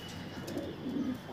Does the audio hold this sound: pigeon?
yes